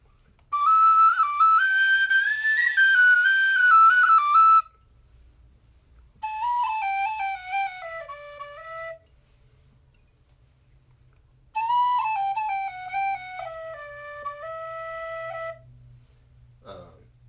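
Three separate phrases of bright, breathy melody on a carbon fibre tin whistle played close up, each a few seconds long, with short quiet pauses between them.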